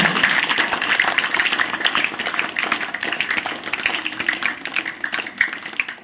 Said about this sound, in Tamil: கரகோஷத்துடன் வருக வருக என அன்போடு வரவேற்கின்றேன்